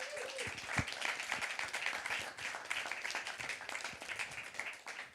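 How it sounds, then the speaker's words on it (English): A music industry masterclass audience applauds as panellists walk onto the stage; the clapping is faint and continuous, with a few louder thumps and a brief tone at the start. "Round of applause, please."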